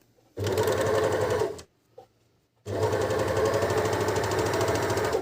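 A Janome 204D overlock sewing machine stitches through two layers of fabric in two loud, steady bursts of rapid mechanical chatter, each roughly a second or more, separated by a short near-silent pause with a faint click.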